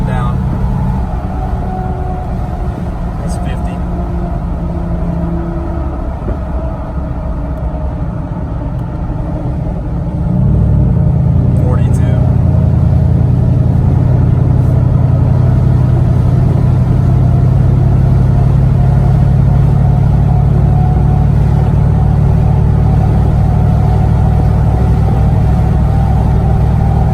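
Wind roaring through the open windows of a car cruising at 62 mph on Atturo TrailBlade MT tires, a steady loud rush with low road rumble that swells heavier partway through, with someone talking over it.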